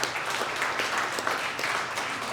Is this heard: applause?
yes